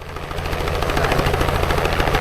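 Several helicopters flying in over the desert of central Australia, a loud, close, rapid rotor chop with a steady low engine drone.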